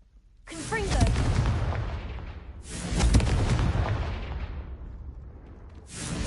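Confringo explosive spell blasts in the Hogwarts Legacy video game: three loud, booming bursts, each with a rushing roar that slowly fades before the next hits.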